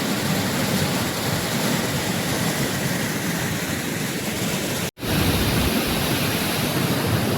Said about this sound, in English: That's our first glimpse of the waterfall.